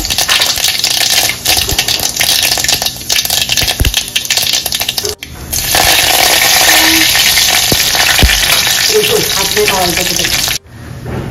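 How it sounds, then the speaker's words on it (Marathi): Mustard seeds and cumin crackling in hot oil for crispy medu vada sambar, a dense loud popping and spattering close by, with brief clanks of a utensil and a short break near the end. "त्याच्यासाठी मोहरी टाकली. जिरे टाकायचे."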